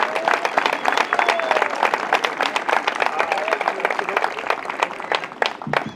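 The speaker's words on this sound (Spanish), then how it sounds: "Fuerte el aplauso, Luis Alberto Bove." A crowd at a festive celebration in Flores gives sustained, dense applause, with many hands clapping close by and faint voices and cheers mixed in, tapering slightly near the end.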